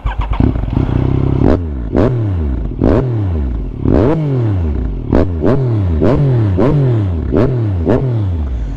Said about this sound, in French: Si vous voulez je vous la démarre maintenant, comme ça vous allez voir.